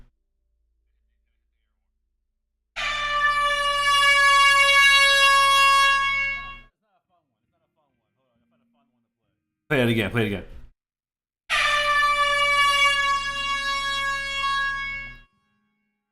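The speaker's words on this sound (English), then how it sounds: "Gotta hit the air horn." A blaring air horn sounds twice, each blast lasting a few seconds, with a brief spoken remark in between.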